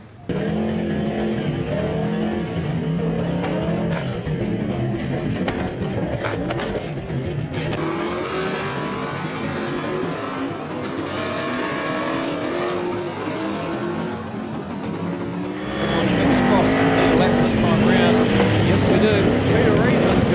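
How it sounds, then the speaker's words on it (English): Speedway race cars roar around a dirt track in a dense pack, engines loud and continuous throughout, with race commentary talking over the noise and the engine pitch rising toward the end. "Oh, cars everywhere."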